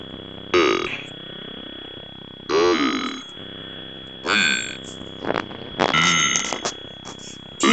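Repeated burp-like croaks from a character in Five Nights at Freddy's 2, several separate bursts spaced a second or two apart over a steady electronic hum, with no talking.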